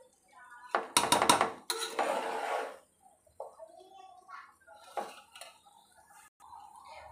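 Cooked rice is stirred and tossed in a metal pan while making egg fried rice, giving a burst of loud clanking spoon-on-pan scrapes followed by softer intermittent scraping, with someone talking quietly over it.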